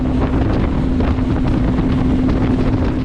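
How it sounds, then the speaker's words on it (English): Wind on a lake while fishing for crappie from a boat, loud continuous rumbling gusts buffeting the microphone, with a faint steady motor drone underneath and no talking. "This wind is really making things difficult, even in these coves right here."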